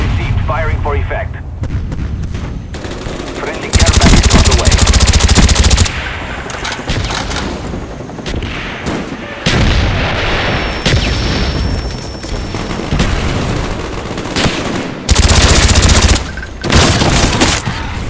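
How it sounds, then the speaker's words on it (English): Mortar strike in Black Ops multiplayer: heavy booming artillery blasts and rattling gunfire arrive in loud repeated bursts, with game radio voice lines heard between the explosions. "Mortar coordinates received. Firing for effect."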